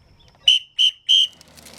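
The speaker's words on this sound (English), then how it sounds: "we'll blow our whistle" Three short, sharp blasts of a whistle sound in quick succession, loud and close, in thick bush during an off-road driving event.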